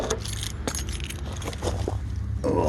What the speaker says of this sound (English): I brought the keys out, but I don't think I have a key for this